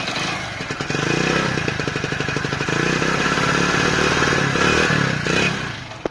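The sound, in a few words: motorcycle engine running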